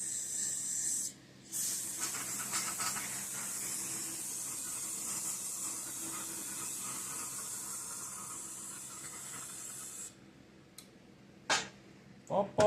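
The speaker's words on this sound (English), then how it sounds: "Back to the hose spray" A garden hose sprays water onto Ford engine parts with a steady, close hiss that cuts out briefly, then ends in a few short bursts of spraying.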